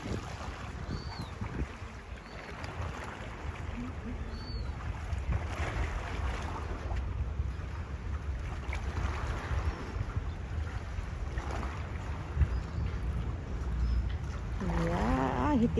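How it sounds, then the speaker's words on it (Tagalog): Wind buffets a small fishing boat out at sea, a steady low rumble and gusty rushing with the hull and water churning beneath, continuous and fairly close throughout. "Sarap pati ng hangin dito."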